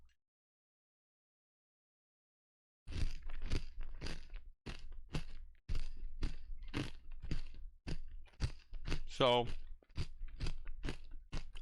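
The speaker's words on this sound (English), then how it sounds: "I think lightly milked will have a pretty solid crunch here." Giant cereal squares soaked lightly in milk are chewed close to the mic in loud, rhythmic crunches, one after another after a silent start, with a brief spoken word among the bites.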